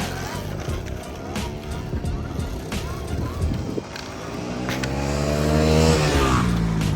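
Electric motocross bike fitted with supermoto wheels rides slow, low-gear circles, its motor giving a steady whine that rises and falls with the throttle and swells louder near the end, over background noise.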